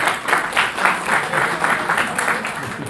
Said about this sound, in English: It's his first time he's ever gotten applause.